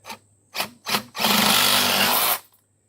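A power saw cuts through a well pipe at its coupling in three short bursts, then one sustained, loud grinding cut lasting about a second.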